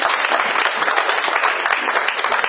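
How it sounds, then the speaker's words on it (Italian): An audience at an improvised stand-up comedy show gives steady, dense applause, close and loud, a continuous wash of clapping hands with no gaps. "fai un applauso,"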